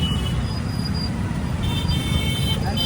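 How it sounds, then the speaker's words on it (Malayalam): Congested city traffic in Bhopal, with a constant low roadway rumble and engine drone and a few faint, brief horn toots, no speech. "ഇവിടെ മുഴുവനും ബ്ലോക്കായിട്ടാണ് ഉള്ളത്."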